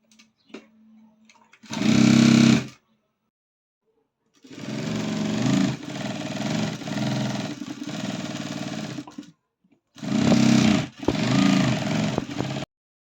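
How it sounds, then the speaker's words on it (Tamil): A sewing machine stitches blouse lining and inner cloth together in loud, close bursts of rapid whirring, separated by pauses of near silence. "இப்போ நம்ம லைனிங்கும் உள் துணியும் வச்சு ஒரு தையல் போட்டுக்கலாங்க"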